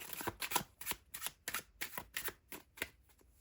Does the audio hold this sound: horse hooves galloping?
no